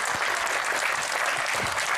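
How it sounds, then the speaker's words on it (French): Audience applause at a FileMaker conference opening session fills the room as a steady, dense burst of many hands clapping, heard at moderate distance. "je vous demanderai de bien vouloir les applaudir"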